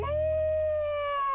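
A single wolf howl from an animated cartoon rises and holds as a clear, steady tone, close and loud, lasting about a second with no talk over it.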